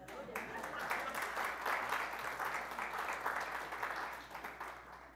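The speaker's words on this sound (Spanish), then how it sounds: "So, dan un aplauso fuerte." A church congregation applauds, a steady wash of many hands clapping at moderate, fairly distant level, with faint voices mixed in.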